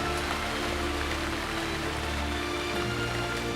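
Steady rain falls in a dense, even hiss, continuous and fairly soft, with no voices.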